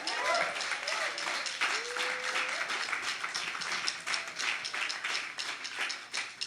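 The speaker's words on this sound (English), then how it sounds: "So a big round of applause for Mad Hippie and Abbey Creek." An audience at a live Portland show applauds, with steady, fairly faint clapping running throughout and a few voices and cheers mixed in.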